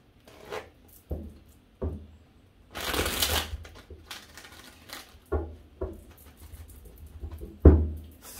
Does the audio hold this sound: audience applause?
no